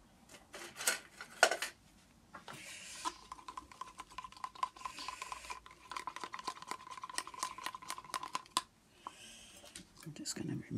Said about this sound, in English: What I'm mixing up, I've got some silicon oil and I'm going to put some gold in with it.